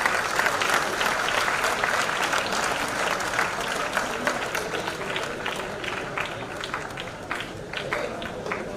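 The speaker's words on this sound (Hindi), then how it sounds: "माननीय गुलाबपत जी के साथ तालियों से स्वागत" Sustained applause from a seated audience of degree holders and students at a university convocation ceremony, dense steady clapping that carries at an even level throughout and thins only slightly toward the end.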